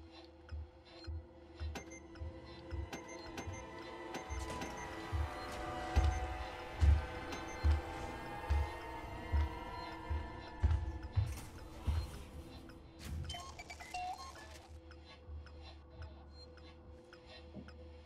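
Mechanical clicking and ratcheting while a pipe bomb is crafted in the survival horror game Alien Isolation, with a steady run of regular clanks over a low, droning game ambience and no talking.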